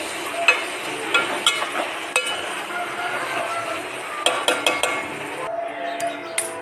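Amaranth leaves tossed into a pan for village-style curry, with metal clinks and scraping from stirring over a soft sizzle, the taps irregular and close.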